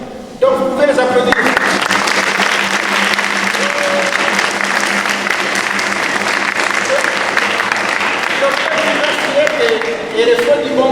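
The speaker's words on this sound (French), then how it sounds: "Donc, vous pouvez les applaudir." Congregation at a closing youth Mass in a church applauds the young catechumenate leaders, a sustained dense wash of clapping across the room after a brief spoken announcement, with a voice returning near the end.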